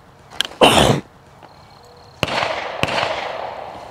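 A Honey Badger rifle fires a single sharp, loud shot at close range, followed by a mechanical clack and a ringing decay, with a second click shortly after.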